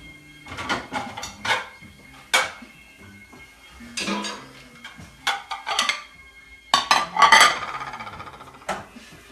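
Scattered light clinks and scrapes of food moving on a plate, a series of short irregular sounds close by with quiet gaps between.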